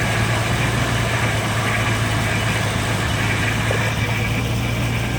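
A carbureted car engine idling after a cold start: a steady, loud, low rumbling drone that stays even throughout, with no voices.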